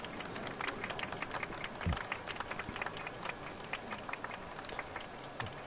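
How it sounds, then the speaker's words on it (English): Crowd applause at a Gotham hospital dedication ceremony in a Batman Telltale video game, a thin, steady patter of clapping heard somewhat distant and low throughout. "This is fake applause."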